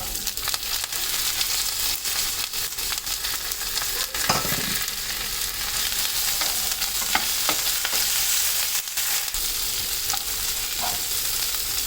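Two large onions and curry leaves sauté in oil for sambar, producing a loud, steady sizzle with occasional stirring scrapes and crackles.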